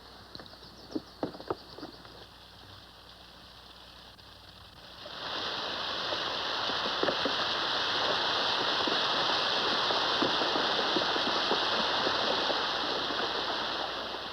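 Water rushing through an opened irrigation head gate on a 1940s western ranch. A quiet start with a few knocks gives way to a sudden, steady, loud roar of flowing water that continues to the end.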